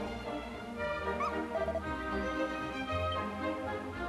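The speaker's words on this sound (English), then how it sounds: "That was a dog." Dog barks and yips in the video game Dragon Quest VII Reimagined, a few short calls over steady background game music, fairly close and clear.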